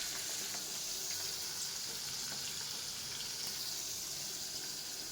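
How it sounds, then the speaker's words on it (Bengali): Fish frying in a pan in a home kitchen gives a steady, loud, hissing sizzle that continues without a break. "এই দেখো এখন মাছগুলো ভাজা হচ্ছে।"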